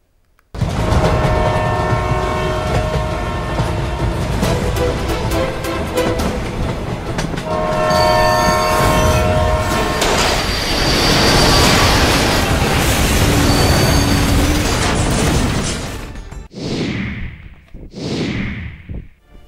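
A train rumbles past loudly and steadily, with a long horn blast over the rolling noise, then two short, sharp horn calls ring out near the end as the rumble drops away.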